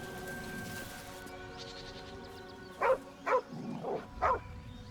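A dog in the video game Baldur's Gate 3 gives four short, fairly loud barks in quick succession, after a quiet stretch of low ambient game music.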